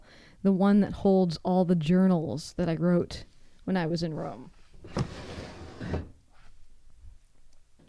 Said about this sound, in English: And the drawers all sound a little different.